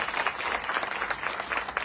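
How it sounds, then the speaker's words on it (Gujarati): Applause from a crowd at a political gathering in Gondal, steady dense clapping with small swells, moderately loud and without talk. "આ ટીમને એકવાર જોરદાર તાળીઓ આપી."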